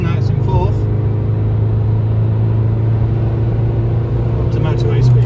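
Isuzu D-Max pickup accelerating in fourth gear toward motorway speed, with a steady low engine drone and road rumble inside the cab that builds slightly toward the end.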